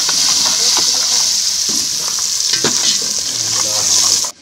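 Masala frying in a pan as red chilli is stirred in, a loud, dense hiss with scraping stirs throughout that cuts off abruptly at the end.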